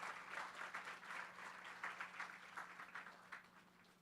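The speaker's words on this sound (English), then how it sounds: "Let's give them another round of applause." An audience at a village community evening applauds after a performance, a soft, distant-sounding patter of many hands that swells and dips slightly throughout, with a low steady hum underneath.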